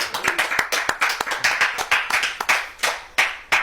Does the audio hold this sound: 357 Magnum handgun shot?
no